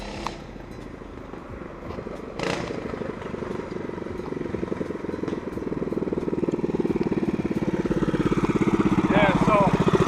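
A Yamaha dirt bike fitted with a Predator 212 single-cylinder engine runs with a steady, rapid putter that grows louder and closer over ten seconds, with one sharp knock early on.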